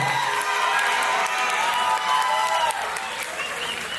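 Crowd at a live pro wrestling event clapping loudly and steadily, a dense wash of applause with some cheering mixed in.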